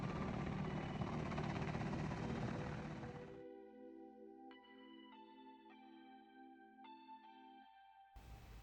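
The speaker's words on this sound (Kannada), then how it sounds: "ಬಂತು ನಮ್ದು ಹೆಲಿಕಾಪ್ಟರ್ ಬಂತು" A loud, steady helicopter roar fills the first few seconds as it arrives near Badrinath, Uttarakhand, then cuts off abruptly and is replaced by sustained electronic tones.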